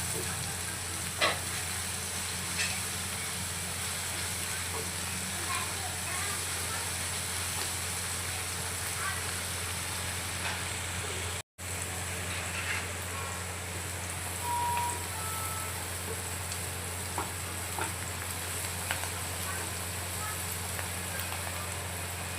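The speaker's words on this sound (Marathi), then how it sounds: "एक चम्मच मीठ ॲड करून यामध्ये छान आपण फ्राय करून घेऊया, गोल्डन फ्राय।" Appe batter frying in oil until golden in an appe pan, a steady soft sizzle running throughout with a brief dropout midway and occasional faint clicks.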